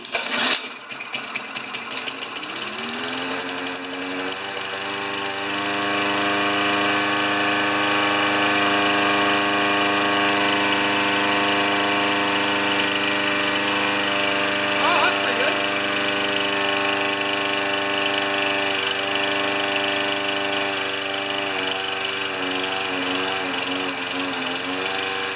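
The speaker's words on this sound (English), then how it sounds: "it's a very lazy carburetor, but it runs" A Tecumseh 3.5 HP small engine with a sluggish carburetor sputters to life and settles into a steady, loud, droning run close by, its pitch wavering slightly over the whole stretch.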